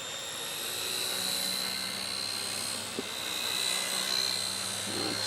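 A small XK K123 AS350 radio-controlled helicopter flies nearby with a steady high-pitched rotor and motor whine, continuous and fairly loud, with a brief click midway and no talking.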